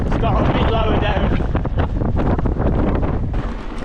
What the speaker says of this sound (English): I'm sure you'll be able to hear, but it's very windy.